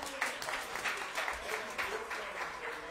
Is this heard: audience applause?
yes